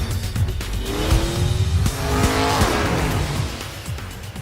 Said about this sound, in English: A fast car makes it a bit more fun.